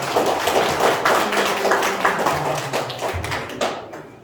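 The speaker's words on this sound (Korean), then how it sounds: "출발의 신호를 박수로 올려주십니다." An audience at a lecture for a training institute claps in a steady, rapid burst of hand claps lasting a few seconds, loud and close, before it stops abruptly.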